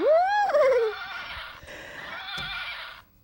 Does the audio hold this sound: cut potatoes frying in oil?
no